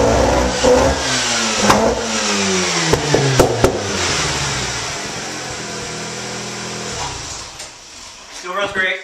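A 2002 right-hand-drive Mazda RX-7 FD rotary engine runs close by, revving in several sharp rising bursts over a steady idle, with brief clunks in between and the engine dropping back toward idle at the end.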